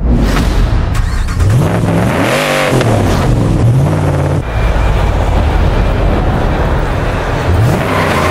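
A Ford Ranger Rally off-road truck in Forza Horizon 5 revs loudly and continuously, its engine pitch climbing and dropping through several sweeps as it accelerates. Road and wind noise sit underneath, with no talk.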